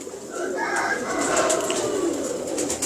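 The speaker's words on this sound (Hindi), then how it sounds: "बहरहाल एक अच्छा कबूतर है" Pigeons coo in a loft where fancy pigeons are kept, a soft continuous murmur of several birds fairly close, with faint talk nearby.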